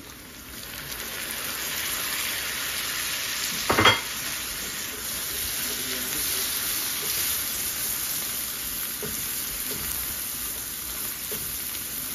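Ginger, garlic and spices frying in a pan, a steady close-up sizzle with a brief louder crackle as stirring begins, continuing evenly.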